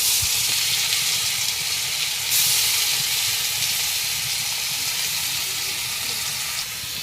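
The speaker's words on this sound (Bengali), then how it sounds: "আমি মাছের সঙ্গে ভেজে নেব বেগুন, তাই বেগুনটা তেলের ভিতরে দিয়ে দিতেছি। তেলে কাঁচামরিচ দিয়ে দিচ্ছি" Eggplant and green chilies frying in hot oil, a steady loud hiss and sizzle close by, constant crackling spatter throughout with no talking.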